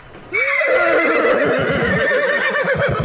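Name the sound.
angry horse neighing, audio drama sound effect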